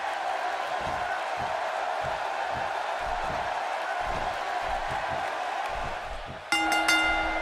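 Video game arena crowd in Cleveland for a WWE 2K16 wrestling match roars in a steady, loud wash of cheering with rhythmic thumping beneath, ending in a brief sharp burst near the end.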